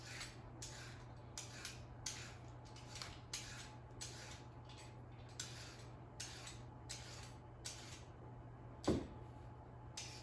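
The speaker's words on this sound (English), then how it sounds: "So for regular carrots, I'll peel them." A vegetable peeler scraping down a regular carrot in a home kitchen, a quick series of about a dozen short, crisp rasping strokes in steady rhythm over a low constant hum, close and fairly quiet.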